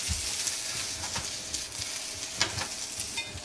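Vegetables sizzle steadily in a hot pan while being stir fried for tteokbokki, a dense crackling hiss with scraping stirs and a few sharper spatula knocks, close and continuous with no talk.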